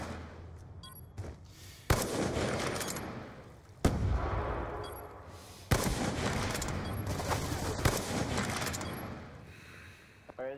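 Several sharp, loud gunshots crack out at irregular intervals in a first-person sniping video game match, each followed by a dense rolling rattle of continuous fire and game noise, with no talk.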